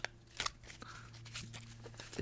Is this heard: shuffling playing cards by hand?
yes